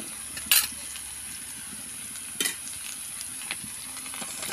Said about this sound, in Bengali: আদা জিরা বাটাটা দিয়ে একটু নাড়াচাড়া করে নেব।